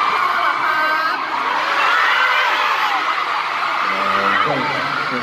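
Large concert crowd cheering and screaming loudly and continuously, shrill high-pitched shrieks and whoops filling the space with a dense roar.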